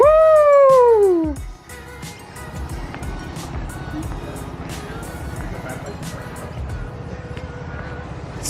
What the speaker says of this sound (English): This 5-cylinder in this sounds really, really good.